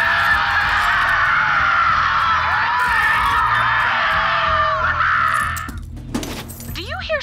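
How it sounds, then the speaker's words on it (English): Distant screaming and shrieking voices in Borderlands 3, a dense wavering chorus of high cries sustained for several seconds, then cutting off abruptly into sparse clatter and a few rising squeals near the end. "Do you hear screaming, or am I having another one of my episodes?"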